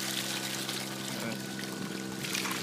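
Steady rushing water pours continuously in a recirculating gold-mining sluice, with the droning hum of a water pump running underneath, fairly close and unbroken.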